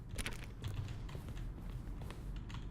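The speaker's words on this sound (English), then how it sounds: "Each sound is a mix of keyboard strokes and synthesized notes." Rapid keyboard clicks blend with soft synthesized tones in a steady, busy stream of game sounds from The Stanley Parable, fairly close and continuous without pauses.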